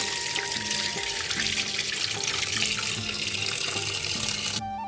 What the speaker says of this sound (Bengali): চলো এবার চিকেনটা ধুয়ে